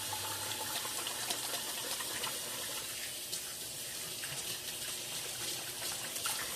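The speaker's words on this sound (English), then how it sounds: "you gotta wash the paws anytime you're handling the raw meat" A kitchen tap runs steadily into a sink while hands are washed under the stream after handling raw meat, a close, continuous gushing with slight splashy variation throughout.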